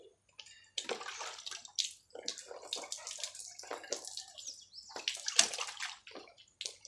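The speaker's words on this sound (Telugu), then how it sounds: "తర్వాత దీంట్లో వాటర్ పోసేసి" Food squeezed and washed by hand in a vessel of freshly poured water, producing irregular close sloshes and splashes separated by brief quiet gaps, with no voices.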